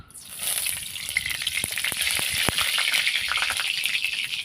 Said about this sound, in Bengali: তেলে এই মশলাগুলোকে ভেজে নেব।